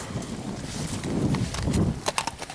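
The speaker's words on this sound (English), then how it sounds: "You're a lovely horse, aren't you?" A horse moves nearby, with low shuffling and a few sharp hoof knocks toward the end; no speech.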